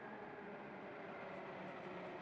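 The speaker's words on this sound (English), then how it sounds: "Incidentally, this train is HCMT set number 2," A Melbourne HCMT metro train running through a tunnel, a steady, loud broadband rumble and roar that holds evenly throughout with no talk over it.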